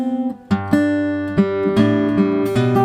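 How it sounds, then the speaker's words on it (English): Guitar bass notes are plucked one after another in a short run, each ringing out with a gentle vibrato wobble, clear and close with no voices. "notice how I gave some vibrato to those bass notes"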